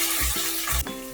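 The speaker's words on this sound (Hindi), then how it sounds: "लहसुन और अदरक भुन गया है" Crushed garlic and ginger frying in a pan with whole spices and dried fenugreek leaves, a loud, continuous close sizzle with brief low stirring thumps.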